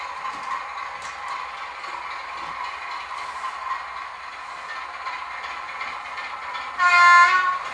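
A model train runs steadily on the Far Moor Track layout with a continuous mechanical whir and hum, then a louder horn-like tone sounds briefly near the end.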